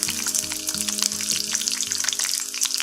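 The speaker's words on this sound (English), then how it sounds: "And let it fry around 1 minute until it changes color" Soya beans frying in chili-infused oil, a loud, dense, continuous sizzle and crackle close up, with a low steady hum underneath and no voices.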